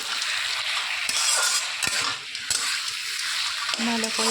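Shukto vegetables being stirred and mixed in a pan over steady frying sizzle, with irregular scrapes and knocks of a spoon against the metal; close and moderately loud, no talking.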